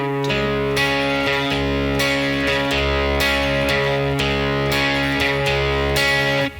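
A heavily distorted electric guitar picks out a repeating low riff, each note chugging with gritty sustain in a steady, driving rhythm.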